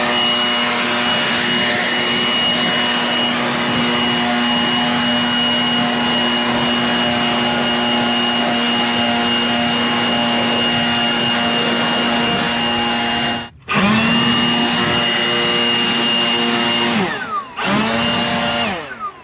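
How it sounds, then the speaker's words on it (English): Loud, steady whine of a handheld air blower run close by to clear a dirty John Deere 335P air filter, held level for about thirteen seconds, then briefly cutting out twice and revving back up. "let's grab the blower"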